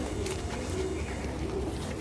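A Kalsari female pigeon kept by a pigeon fancier in Sonipat, Haryana, coos softly in a few low, rounded, repeating phrases over a steady background hum, with no talking.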